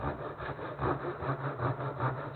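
A hand saw cuts through a wooden workpiece in gentle, even back-and-forth strokes, a soft rhythmic rasp repeating about every half second, close and quiet with no talking.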